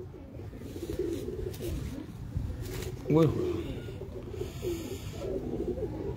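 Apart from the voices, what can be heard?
highflyer pigeons cooing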